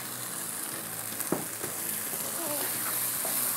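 Chickpeas frying in a spiced masala base for karhi cholay, a steady close hiss of sizzling with a few brief stirring clinks, under light background noise.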